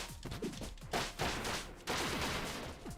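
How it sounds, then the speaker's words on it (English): Rapid gunfire in the video game Spark the Electric Jester 3, bursts of shots crackling in quick clusters with heavy impacts, loud and close over a busy game soundscape. "I'm getting shot through this shipping container."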